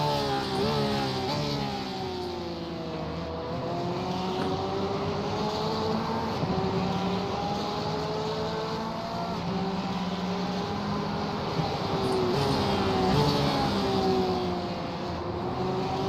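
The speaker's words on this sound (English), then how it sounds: "You've got a very noisy Porsche behind you." A Porsche race car in the iRacing sim at Bathurst holds a sustained engine drone with shifting harmonic pitch as it climbs and eases, steady and fairly close for about sixteen seconds, with no voices.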